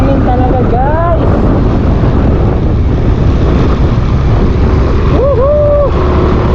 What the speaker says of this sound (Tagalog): Wow, ang sarap ng hangin talaga